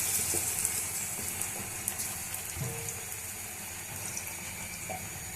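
Steady running water from a tap, filling for a bath, with a continuous hiss and faint splashing, close by and fairly quiet, with no talking.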